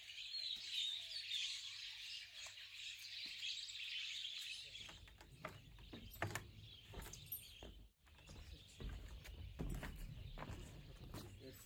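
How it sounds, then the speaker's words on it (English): Songbirds including an Oriental magpie robin chirp and sing on Majuli Island, with bright calls strongest early on, then a mix of scattered tweets, knocks and footsteps-like thumps as the outdoor ambience grows busier. "That's Oriental magpie robin."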